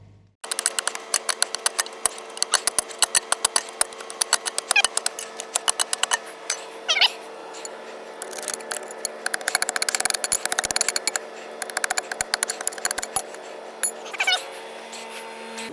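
Chisel working round the sprocket bolts of a 35-tonne excavator final drive, a loud, steady stream of rapid metallic hammering that runs continuously with brief pauses.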